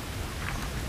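Flowing water at Mount Purro Nature Reserve makes a dense, steady rushing hiss, loud and close, with no voices.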